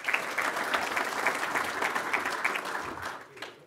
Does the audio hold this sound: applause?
yes